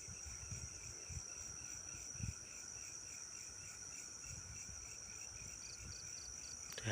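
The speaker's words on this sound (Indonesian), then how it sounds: "Jangkrik tok isine." Crickets chirp in a steady, faint, high-pitched trill inside abandoned housing at night, with soft low thumps beneath and no voices.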